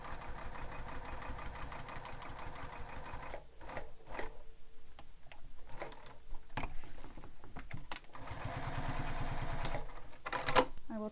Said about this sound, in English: So I'm stitching all around this gusset strip.